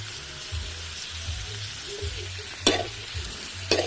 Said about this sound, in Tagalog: haluin natin guys para lumambot yung ating kalabasa guys